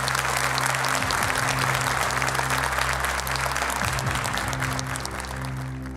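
A studio audience at a Quran recitation contest claps loudly and continuously for a contestant, a thick even wash of hand claps lasting the whole stretch with faint low tones beneath, no voices.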